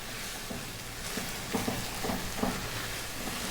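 Tomato paste cooking over medium heat in a pan gives a steady, quiet sizzle and hiss throughout, with a few soft scraping stir sounds near the middle and no talking.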